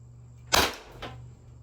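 Umarex HDP50 pistol firing a single shot at close range: one sharp, loud crack followed by a softer second report about half a second later, against a quiet background with a steady low hum.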